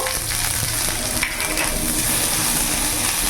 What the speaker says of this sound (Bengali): রসুনটা একটু ভাজা ভাজা হয়ে গেছে, এরই মধ্যে আমি অল্প একটু পেঁয়াজ কুচনো দিয়ে দেবো